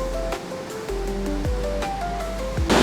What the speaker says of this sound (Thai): น้ำจะไหลแรงและกระจายตัวเป็นฝอยละอองเหมือนหมอกเลยครับ